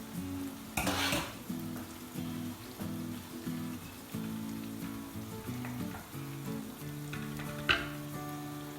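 Monkfish pieces fry in butter and oil in a pan, giving a continuous soft sizzle with brief louder bursts of spattering and a few clinks as the fish is moved around.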